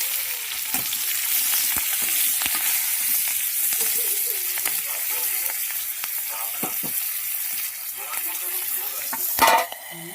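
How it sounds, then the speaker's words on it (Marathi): Green chillies for vada pav sizzle and fry steadily in hot oil in a pan, a continuous close crackle with occasional stirring clinks and a sharper splatter near the end. "आता ह्या फ्राय करून घेते"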